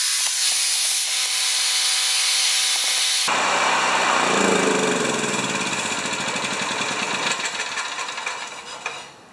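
A small engine on a restored motor is choked, catches and then runs with a loud, rough, steady roar. The sound eases off and drops away at the very end.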